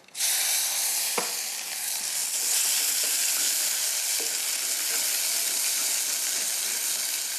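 Cumin seeds, turmeric, sugar and vinegar for a Sri Lankan pickling mix sizzle continuously in a hot pan, a loud, even frying hiss with a few faint clinks of stirring.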